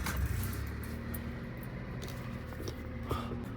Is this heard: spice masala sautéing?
no